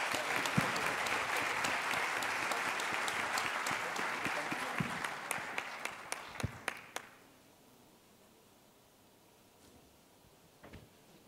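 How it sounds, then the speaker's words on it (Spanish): Audience applause at an award ceremony for the Don Lorenzo Servitje recognition, a dense crowd clapping for about seven seconds, then stopping abruptly with a few scattered claps trailing into near silence. "Un aplauso."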